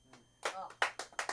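Scattered claps from a comedy club audience at an open mic night, a few sharp separate hand claps following a stretch of talking, fairly quiet and close.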